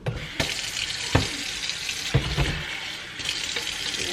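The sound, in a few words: pouring a little water into the dish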